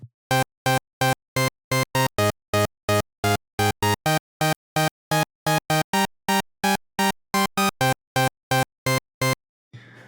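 A Sylenth1 synth on an initialized preset plays short, plain chord stabs in a steady rapid rhythm, roughly thirty evenly spaced hits, loud and dry with no voice.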